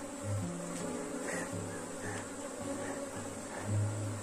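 A honeybee swarm buzzes steadily at a hive during the honey season, a continuous close drone with low hum bands rising and falling slightly, heard alone without talk.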